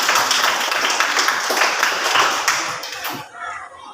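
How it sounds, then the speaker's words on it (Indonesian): Applause for a student group after a class presentation at a vocational high school: dense, steady clapping from many hands, loud and close, fading slightly toward the end. "kita beri aplaus untuk kelompok 1"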